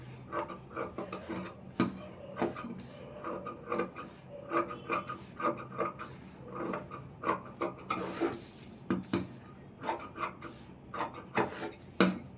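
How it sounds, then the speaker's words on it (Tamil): Scissors cut extra fabric pieces off an Aari work blouse with a rapid, irregular series of close snips and rasps, with no voices. "இப்போ எக்ஸ்ட்ரா பீஸ்லாம் வெட்டிடலாம்."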